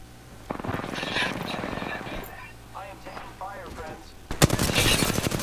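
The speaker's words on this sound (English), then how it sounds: "I am taking fire, friends." Apex Legends gunfire rattles through a firefight, steady rapid shots under excited player voices, ending in a louder, denser burst of shooting.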